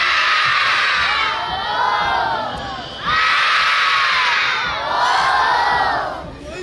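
A crowd of children at a Christmas festival show shouts and cheers loudly in three rising waves of excited screaming and whooping, close and continuous.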